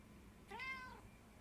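A single short meow from a cat indoors, faint and close, rising and falling over about half a second against quiet background hum.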